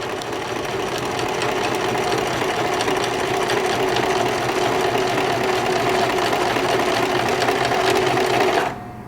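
Sewing machine running steadily for about nine seconds as a beginner sews slowly, a continuous buzzing motor hum with rapid needle chatter, close and loud, cutting off abruptly at the end.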